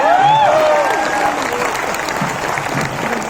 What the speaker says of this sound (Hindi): हम लोग कर सकते हैं जोरदार तालियां।